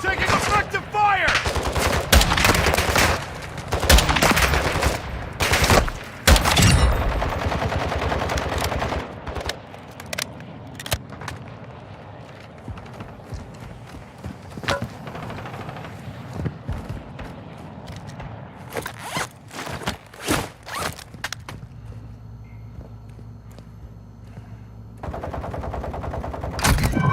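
Rapid automatic gunfire and scattered single shots ring out in a Call of Duty MW2 DMZ firefight, heavy bursts early, then sparser cracks and thuds with voices occasionally heard.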